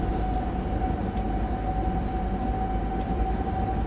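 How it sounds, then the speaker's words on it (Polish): A BR 185 electric locomotive in Train Simulator Classic runs at speed, giving a steady droning hum with a thin whine and rolling low rumble, continuous and even throughout with no voices. "Uwielbiam dźwięki tej lokomotywy."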